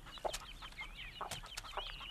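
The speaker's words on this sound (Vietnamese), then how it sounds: "Tôi thả bầy gà ngoài này nó hôi lắm" A flock of free-range chickens clucks outdoors, with overlapping soft clucks and chirps at moderate distance over a steady background hum.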